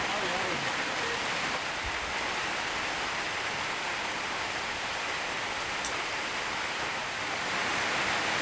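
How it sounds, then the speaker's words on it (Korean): A daytime rain shower falls on the forest of Kakum National Park in Ghana, a steady, dense hiss of rain that holds evenly from start to finish. "벌건 대낮에 소나기가 내리기 시작했다."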